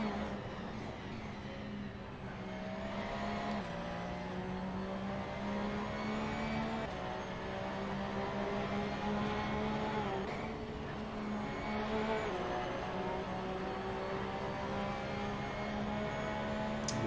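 Onboard engine drone of a Porsche race car in a sim racing game at Laguna Seca, a steady loud hum with shifting pitch through gear changes, running continuously without pauses.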